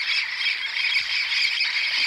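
Many parrots by the São Lourenço river keep up a dense, unbroken chorus of harsh squawks. The calls are fairly close and steady throughout, with no voices over them.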